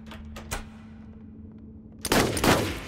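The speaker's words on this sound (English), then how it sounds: "Firing off rounds." Burst of rapid machine-gun fire in a dark hide-and-seek video game, loud and dense, erupting after a quieter stretch of a few isolated thumps and shots.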